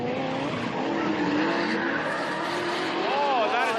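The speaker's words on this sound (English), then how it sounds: "that big, angry individual throttle body R33" A big, angry Nissan R33 drift car with individual throttle bodies roars steadily at a Sydney drift event, its engine note rising and falling under continuous tire squeal, with a commentator talking over it.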